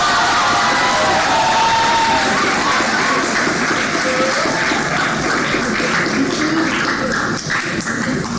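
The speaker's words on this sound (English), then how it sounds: "So please give Miami-Dade College North another round of applause." Audience applause and cheering fill a civic knowledge bowl competition hall, a steady, loud wash of clapping and crowd noise that carries evenly through the whole stretch with no break.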